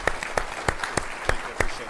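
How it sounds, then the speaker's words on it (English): Audience applause at an Army Surgeon General's update ceremony, a loud burst of hand clapping with sharp individual claps standing out over steady crowd noise, lasting throughout. "Give him another round of applause"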